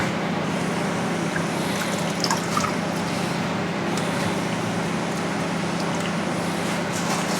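Onion flowers from a home vegetable garden are rinsed in clean water in a colander, giving a steady, close wash of running, splashing water with a low background hum throughout.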